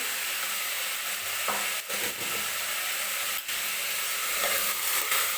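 Vegetables including beetroot sizzle steadily in hot oil for pav bhaji while a spoon stirs and scrapes the pan, a close, continuous frying hiss broken by occasional stirring knocks.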